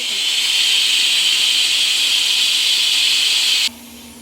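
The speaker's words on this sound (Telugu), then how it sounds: "కుక్కర్ విజిల్ వస్తుంటే పలావ్ మంచి స్మెల్ వస్తుందండి" A loud, steady hiss of escaping steam from a pressure cooker cooking pulao blasts continuously, then cuts off abruptly, leaving a faint low hum.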